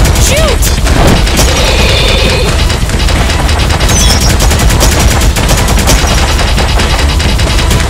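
Rapid gunfire blasts in the arcade shooter Elevator Action Invasion, loud dense bursts of shots and booms running continuously with game effects layered underneath.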